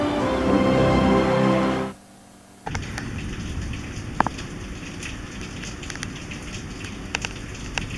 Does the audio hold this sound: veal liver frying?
no